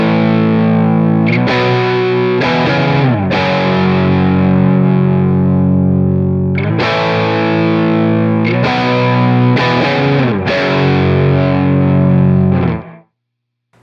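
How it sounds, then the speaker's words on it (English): Slightly saturated electric guitar through a Big Sky reverb on its reflection setting gives a slap-delay-like ambience, with strummed chords and sustained notes ringing loudly and alone before cutting off at the end. "I'm utilizing the Big Sky reverb on the reflection setting for almost kind of like, it almost sounds like a slap delay, but it's reverb"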